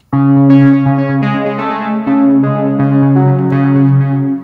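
A sustained synth playing a slow sequence of held chords, washed in reverb with echoing delay tails, loud and unaccompanied.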